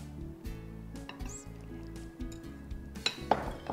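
Spoon clinks and scrapes against a bowl while blueberry pancake batter made with yogurt is stirred, a quiet irregular series of taps and soft wet sloshing.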